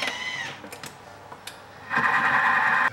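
A Thermomix TM5 runs at speed 3, stirring a mascarpone tiramisu mixture with a steady close motor whir. The whir eases briefly with a few soft knocks, then rises again louder and fuller.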